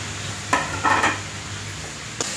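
Tomatoes fry in oil with cumin, ginger and garlic in a pan for a brinjal curry, giving a continuous soft sizzle. A few brief scraping stirs of a spoon against the pan break through, with no voices.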